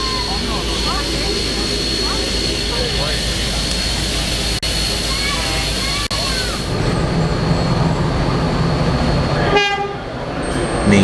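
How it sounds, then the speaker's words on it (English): A 35 class locomotive at the Hunter Valley Steamfest in Maitland rumbles steadily with a constant whistle-like tone, joined by heavier low rumble near the end and a brief burst of rhythmic clanking, with crowd chatter faintly underneath. "many onlookers here at Maitland have admired the 35 class locomotive"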